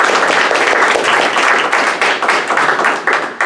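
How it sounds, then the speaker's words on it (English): Audience applause for a panel at a summit on housing and community development, loud and dense clapping from a crowd sustained for several seconds, with individual hand strikes standing out near the end. "Applause for the panel."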